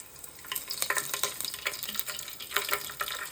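Whole garam masala spices crackling in about two tablespoons of hot oil in a kadai while being stirred, with sharp irregular pops and scraping strokes over a light sizzle, close and fairly quiet.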